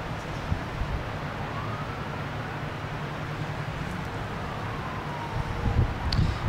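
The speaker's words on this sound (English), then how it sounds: "Lots of sirens, lots of airplanes, lots of helicopters." A siren wails in the distance over steady wind and outdoor rumble, with a faint aircraft drone; no one speaks.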